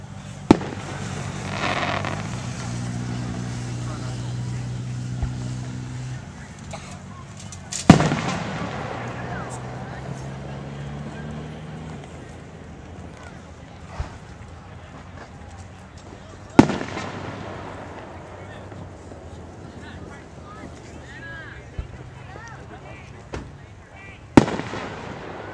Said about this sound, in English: This is the fireworks at Umass Amherst.